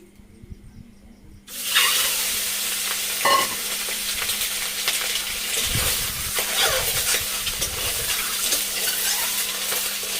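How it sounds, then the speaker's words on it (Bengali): Eggs frying in a little oil in a hot karahi: after a short near-silence, a loud, bright sizzle bursts in and holds steady with crackling, no talk. "কড়া গরম হয়ে গেছে, আমি হালকা তেল দিয়ে ডিমগুলো ভেজে নেব"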